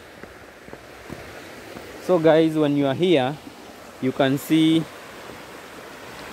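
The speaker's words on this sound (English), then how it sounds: "the flow of the water." Steady rushing water from a waterfall at Paradise Lost in Kiambu, Kenya, forms a soft, even wash in the background while someone talks over it.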